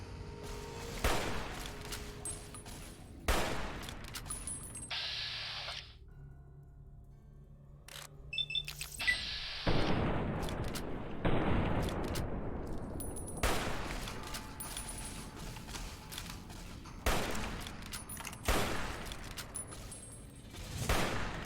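Gunfire rings out in a Fallout New Vegas firefight, sharp bursts of shots and rapid volleys recurring across the stretch with brief lulls between, loud and close, with no talking over it.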